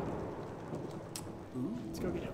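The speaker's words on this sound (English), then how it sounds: "it's raining" Steady rain in the survival-horror video game Alone in the Dark: The New Nightmare, a constant wash of rainfall with a low rumble, heard alone at a fairly quiet level.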